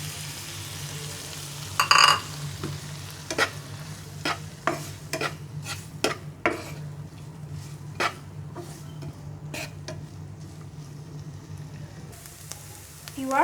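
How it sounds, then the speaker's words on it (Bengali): Chicken pizza masala cooking in a pan with milk, a soft continuous sizzle under repeated scraping and tapping of the stirring spoon, moderately close with little else. "এবার আধা কাপ পরিমাণ তরল দুধ দিয়ে আরও কিছুক্ষণ কষিয়ে নিব।"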